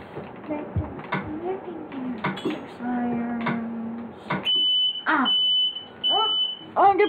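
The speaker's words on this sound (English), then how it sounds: "Sorry about the fire alarm kind of thing." A smoke-style fire alarm gives off sharp, high repeated beeps in short bursts while a person talks over and between them, close and fairly loud.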